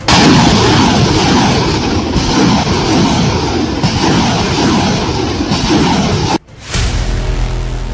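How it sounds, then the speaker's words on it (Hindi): A dense, continuous barrage of missiles fired from navy battleships and tank shells, booming blasts and rumbling fire, loud and relentless, with a brief drop near the end before the roar resumes. "नेवी की बैटलशिप से मिसाइलों की बरसात हो रही है।"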